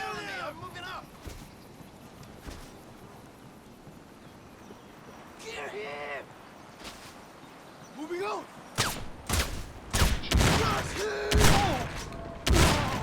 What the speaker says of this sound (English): Even from this distance, the shotgun's effective when you change the burst mode from scatter to more focused